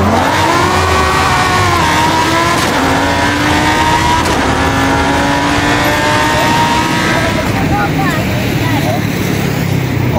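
A motorized vehicle accelerates at full throttle, its engine pitch climbing steadily and then easing off. It stays loud and close throughout, mixed with strong wind noise.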